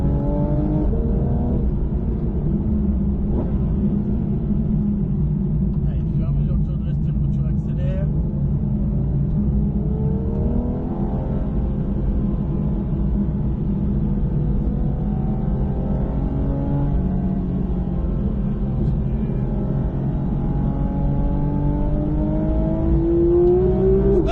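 A rallycross race car at Lohéac accelerates hard, its engine a loud continuous roar with rising pitch sweeps as it pulls out of corners, heard from inside the car while an instructor talks over it throughout.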